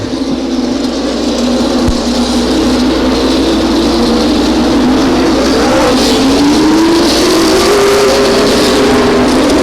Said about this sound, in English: one lap to go as the cars cross the start-finish line